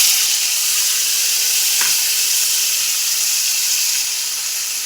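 Ginger-tomato paste and spices fry in a pan, producing a loud, steady hissing sizzle with a single brief knock partway through. No voices are heard.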